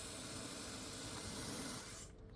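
Underseal coating sprayed into the sills and underside of a Ford Focus ST225 gives a close, steady hiss lasting about two seconds before cutting off abruptly.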